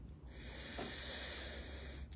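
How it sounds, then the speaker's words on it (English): A slow, steady deep inhale during a guided breathing exercise, a soft airy hiss that swells and holds for about two seconds, close and quiet with no talking over it. "Breathing in."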